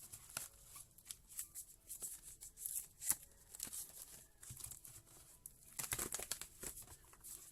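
Quiet riffling and shuffling of a deck of cards, with soft patters and flutters in irregular bursts, close by and fairly faint.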